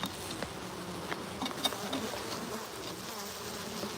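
Honeybees buzz densely around a hive while it is being opened and moved into a bigger box, a continuous close drone with individual bees flitting near and away.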